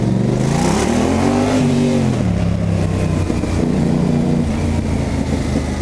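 A Yamaha Tracer 700 motorcycle engine revs up and settles back, its deep rumble rising in pitch and then falling to a steady drone, loud and close with no talking.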